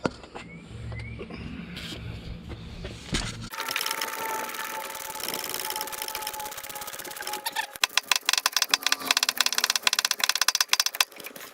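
Bolts being tightened on a Dodge Sprinter AC pump during a T1N cab swap, a steady mechanical whir followed by fast rattling ratchet clicks, close and moderately loud.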